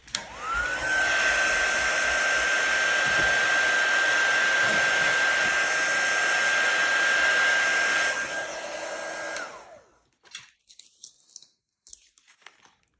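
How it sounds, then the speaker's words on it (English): A crafting heat tool blows hot air over inked card stock before die cutting, a loud, steady whooshing roar with a constant whine that runs for about nine seconds, then cuts off, followed by faint handling sounds. "just before a die cut I'm just going to run this heat tool over, because sometimes the ink can come off and smudge"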